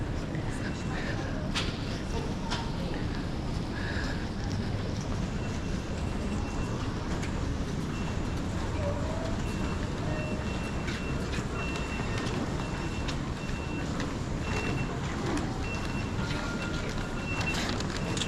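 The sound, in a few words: train travelling in the UK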